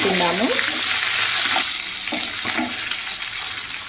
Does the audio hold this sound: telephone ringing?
no